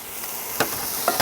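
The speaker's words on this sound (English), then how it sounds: "And you can already hear it sizzling." Cheese sizzles steadily in a hot pan with a constant hiss, broken by a few soft scraping stirs.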